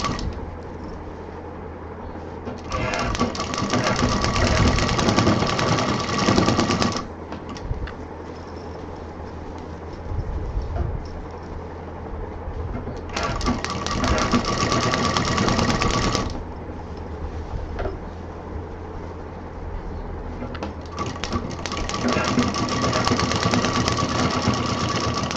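Sewing machine stitching a tote bag strap in three bursts of rapid mechanical chatter, each a few seconds long, separated by quieter pauses with low background hum, close up with no talking.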